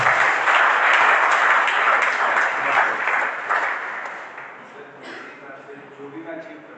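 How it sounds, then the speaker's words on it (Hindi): An audience at a university workshop lecture applauds loudly and steadily, the clapping holding strong for several seconds before thinning and fading out toward the end. "Very nice, clap for him."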